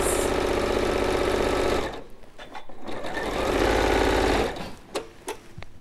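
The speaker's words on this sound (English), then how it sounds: "we've sewn down the diagonals on both of those" A domestic sewing machine stitches quilt diagonals in a loud, steady whirring run, pauses briefly, then runs again before stopping, with a few small clicks after.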